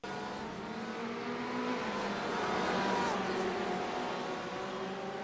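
Race car engines in a sim racing game at Suzuka, a Ferrari among them, droning steadily with layered engine tones under faint background sound, no clear pass-by swell.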